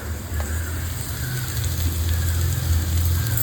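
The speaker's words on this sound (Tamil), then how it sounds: "கடுகு நல்லா பொரிஞ்சிருச்சு" Mustard seeds splutter in hot oil while cooking bitter gourd fry: a dense, steady crackling hiss with tiny pops, close and fairly loud, with a low rumble underneath.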